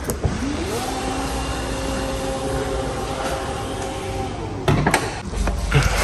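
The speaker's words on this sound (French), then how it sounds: "Et là, la fermeture automatique." The power tailgate of a Porsche Panamera GTS closes automatically, with a steady electric motor whine lasting several seconds and ending in a firm latch thud, followed by faint handling noise.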